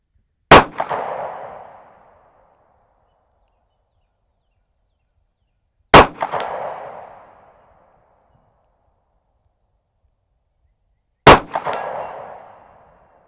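Umarex Regent 1911 air pistol shots striking a steel target at 70 yards: three sharp metallic clangs about five seconds apart, each ringing briefly before fading into silence.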